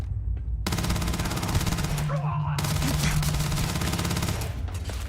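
Rapid gunfire in the video game Starfield, a dense fusillade of shots that keeps up loudly for the whole stretch, brief gaps breaking the volleys and a voice faintly heard beneath.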